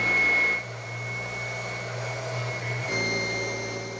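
Heavy mattress-cleaning vacuum weighing over 10 kg, pressed down and rubbed across a mattress; a loud, steady whirring motor drone with a high whine that shifts pitch and intensity as the machine is pushed.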